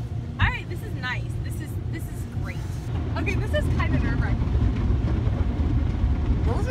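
Automatic car wash machinery running around a car in Evansville, a loud churning rumble of brushes and spraying water building steadily, with squealing swept tones early on while people talk and react inside.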